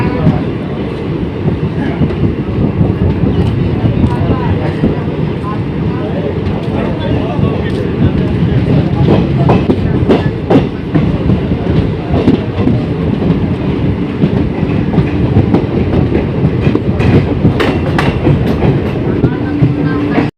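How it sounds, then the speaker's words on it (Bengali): The Haora Radhikapur Kulik Express pulls out of Barsoi station, a loud, steady rolling rumble with rhythmic wheel clatter and rail clicks throughout, while people talk over it nearby. "ট্রেন ছেড়ে দিল বারসই।"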